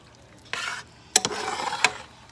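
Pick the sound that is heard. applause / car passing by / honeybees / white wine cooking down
white wine cooking down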